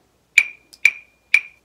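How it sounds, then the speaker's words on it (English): Wooden claves are struck three times at an even pace, each a sharp, bright, close click that dies away almost at once, with a faint tap between the first two. "clave"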